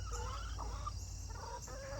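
Backyard hens cluck and croon softly up close in short, broken bursts, with a low steady hum beneath them and no one talking.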